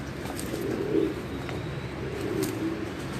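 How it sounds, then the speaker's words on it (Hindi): A Tadi pigeon in a fancier's loft gives two soft, low coos, close by, against a steady hiss of background noise. "टाड़ी कबूतर है जी।"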